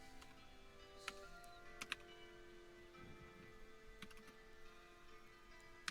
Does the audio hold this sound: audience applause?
no